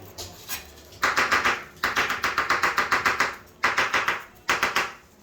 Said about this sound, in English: and then just cut it right there where it's at